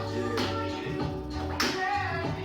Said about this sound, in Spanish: vamos a ir marcando con las palmas para ver de qué va el tema